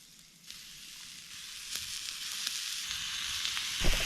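Halved morel mushrooms laid face down in a pan over a campfire sizzle steadily, a bright crackling hiss that builds slightly with a few pops and a clank at the end, no talking.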